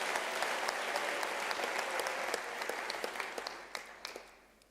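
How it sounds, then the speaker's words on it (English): An audience at a university graduation ceremony claps in a steady, dense wash of applause that holds for several seconds before thinning to scattered claps and dying away. "I think we can give a round of applause to that commendation."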